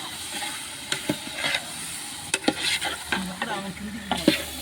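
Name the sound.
stirring and frying meat for biryani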